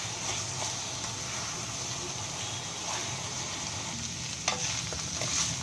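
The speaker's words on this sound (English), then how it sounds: "our parboiled basmati or long grained rice and give this a good mix" Parboiled basmati rice being stirred in a pan over gentle heat, a steady soft sizzle and scraping that runs continuously, close and moderately loud, with no voices.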